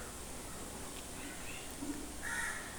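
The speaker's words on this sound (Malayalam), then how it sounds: "ഇവിടെ വന്നിരുന്ന ഒത്തിരി കിളികളുടെ സൗണ്ട് കേൾക്കാം രാവിലെ." Crows caw in the morning outdoors, with a couple of short, harsh calls near the end over a quiet, steady background hiss.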